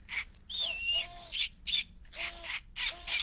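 A toy owl from a set of Audubon bird toys plays recorded bird calls: a series of close, shrill squawks and chirps in short repeated bursts, with no talking.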